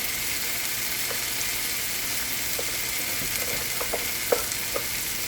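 Garam masala and other spices frying in oil for an Indian apple curry make a constant fine sizzle, with a few light clicks of a spoon stirring in the pan.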